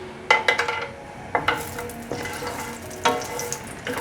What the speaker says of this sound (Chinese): 稍微炒一下就好